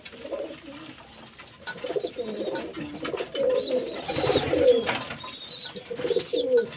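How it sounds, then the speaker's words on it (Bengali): Pigeons coo repeatedly in a loft or rooftop coop where birds are being watered, the low throaty calls rising and falling in an overlapping series, close by and fairly loud, with faint chirps mixed in and no talk. "পায়রা হু করে লাফছে ওপর দিয়ে"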